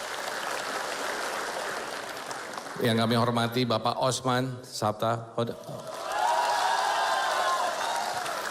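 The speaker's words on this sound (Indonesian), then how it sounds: "Tepuk tangan untuk Pak Mardiono." Crowd applause and cheering for Pak Mardiono, chairman of the Partai Persatuan Pembangunan, at an Indonesian political campaign event, rising loud and broad after an emcee's amplified announcement and continuing under the end of the speech.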